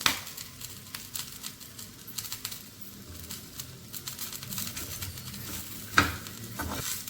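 Tamarind, coriander leaves and grated coconut being stirred together in a pan for upsaaru, with soft scraping and clinking of a spoon against metal over a faint residual sizzle, close and fairly quiet throughout.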